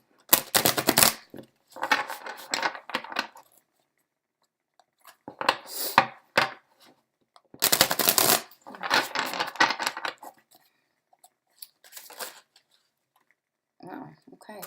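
Tarot cards are shuffled by hand in several separate bursts of crisp riffling and slapping, close up, with short silent pauses between each round.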